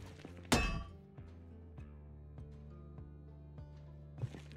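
In Project Zomboid, a sledgehammer smashes a crate with one sharp, loud crack, followed later by a second, softer thud over quiet tonal background music.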